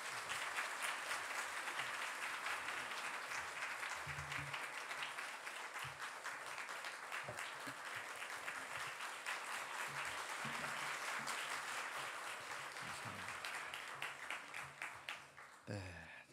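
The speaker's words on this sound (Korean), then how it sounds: "우리 하나님께 영광의 박수요, 우리 목사님께는 사랑과 격려의 박수로 맞이하겠습니다" A church congregation applauds at a Sunday worship service to welcome the pastor, a steady wash of many hands heard from a distance at a low level, fading slightly toward the end.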